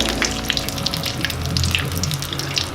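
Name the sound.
fish batter fry frying in oil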